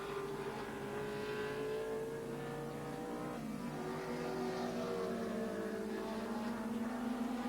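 A Ford Sierra touring car races at speed at Barbagallo, its engine a steady, loud, high-revving drone with shifting pitch as other racing cars mix in, continuous throughout.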